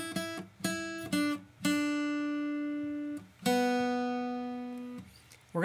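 A plucked guitar phrase from a song of a few quick notes followed by two long sustained, ringing notes, played clearly and alone.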